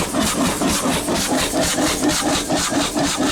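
An old Taylor Iron Works engine, running for the first time in over 50 years without an exhaust fitted, chuffs in a fast even rhythm, loud and close.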